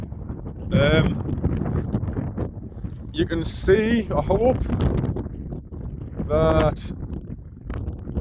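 Wind buffets the microphone on an exposed stretch of the Pennine Way between Horton in Ribblesdale and Great Shunner Fell, a constant low rumble under someone talking throughout.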